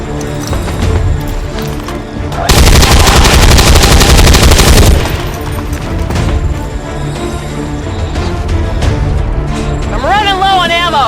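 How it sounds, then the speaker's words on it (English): Heavy gunfire from the XCOM 2 video game erupts in a dense, loud burst lasting a couple of seconds, framed by quieter in-game ambience and effects before and after. "Taking fire over here."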